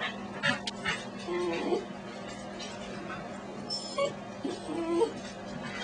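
A dog whimpers and yips softly in short bursts over a low steady hum, with a few faint thumps between the whines.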